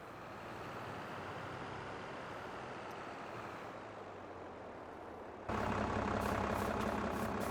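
A tractor engine idles with a steady low rumble in a farm simulator game, then the noise steps up abruptly to a louder, rougher drone.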